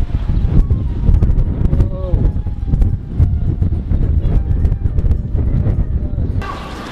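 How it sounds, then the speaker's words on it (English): Strong wind blows outdoors, roaring and buffeting the microphone in loud, uneven gusts throughout, with occasional clattering sounds and voices mixed in. "Wind is so strong!"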